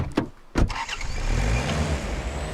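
A vehicle engine in the hunting video game Way Of The Hunter starts with a couple of cranking bursts, then settles into a loud, steady idle rumble.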